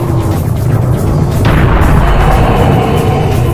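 A cannon blasts in the video game Serious Sam, a loud booming shot over a dense, roaring battle soundscape that stays heavy throughout.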